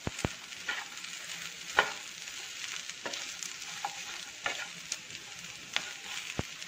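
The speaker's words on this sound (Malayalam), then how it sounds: "രണ്ട് മിനിറ്റ് ഒന്ന് ഇളക്കി കൊടുക്കാം" Bellary beef fries in a pan with a soft, continuous sizzle while a spatula scrapes and taps it, leaving sharp, irregular clicks spread across the stirring.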